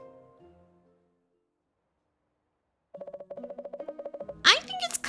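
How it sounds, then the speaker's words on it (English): A short run of evenly spaced electronic dialing beeps from an office phone in a video game, clear and close, followed by a brief voice at the end after a silent gap. "I'll call her office phone and leave a message."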